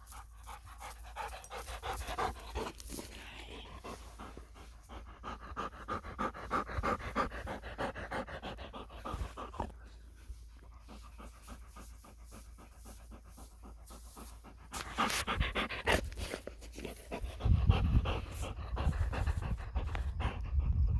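Dogs panting rapidly and rhythmically close by, a steady huffing breath that grows louder and more intense toward the end.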